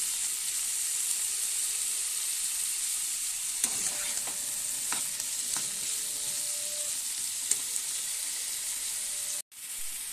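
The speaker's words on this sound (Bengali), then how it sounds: "এটাকে আমি একটু ভালো করে নাড়াচাড়া করে ভেজে নেব।" Potato pieces for jeera aloo sizzle in a hot pan while being stirred and tossed. The frying hiss is steady and close, with intermittent scraping clicks from the stirring. No one speaks.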